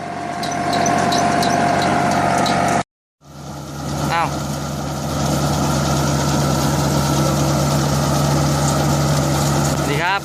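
A Yanmar CA355 rice combine harvester with a three-cylinder turbo diesel engine idles and runs steadily, its loud low drone continuous except for a brief cut, and someone talks over it.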